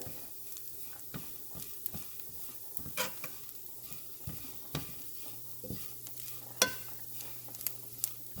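Soft crackling and sizzling of tiny prawns frying in oil, with scattered small pops and occasional clinks, steady and quiet.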